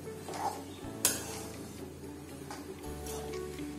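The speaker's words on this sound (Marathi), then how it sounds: "आणि हे मिश्रण पूर्णपणे हलवून घेऊ।" A kanole filling mixture with two bowls of jaggery being stirred in a vessel, giving soft scraping and clinks with one sharp knock near the start, steady and close, no talking.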